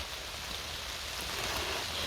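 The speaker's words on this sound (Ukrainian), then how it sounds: "Дощ чуєте, який йде?" Rain falls steadily in a forest, a soft, even hiss of drops on leaves and ground with no voices.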